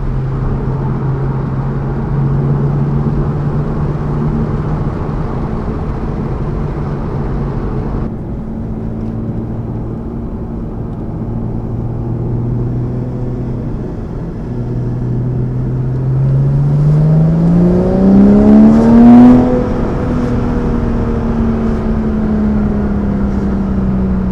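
A Porsche engine warms up at idle with a loud, steady low rumble, then briefly revs up and settles back down near the end.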